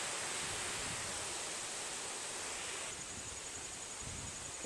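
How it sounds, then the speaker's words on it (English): Mostly water poured out of the gas tank of a Craftsman 5HP chipper shredder with a Briggs Pulsa Jet carburetor, a steady, continuous splashing rush close by, alone without talk. "I'm gonna pour out what's in here. Which is mostly water."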